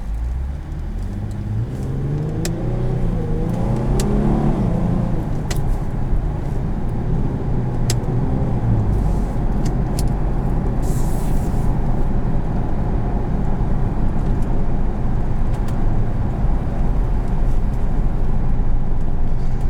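A 2012 Infiniti G37 Convertible with Premium and Sport Pack, rear-wheel drive, accelerates hard from inside the cabin, engine rising in pitch through one gear before settling into a steady loud drone with road noise.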